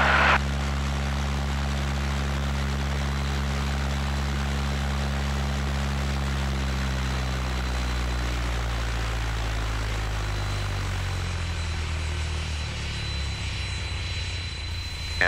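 A small airplane's piston engine during a pre-flight run-up at Van Nuys: a steady, loud propeller drone that sustains throughout, its pitch gliding gradually lower, with no talking.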